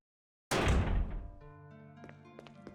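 A rusted-shut door in Resident Evil 1 Remake is tried: a single loud heavy thunk that rings out briefly, followed by a faint metallic rattling tail.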